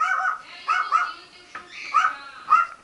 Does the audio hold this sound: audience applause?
no